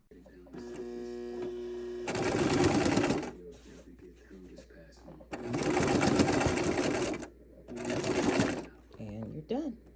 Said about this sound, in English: Now it's time for us to go sew it.